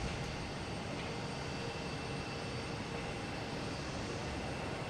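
A JetBlue Airbus A220 arriving from Chicago comes in to land at Boston Logan, a constant broad jet roar at steady loudness throughout.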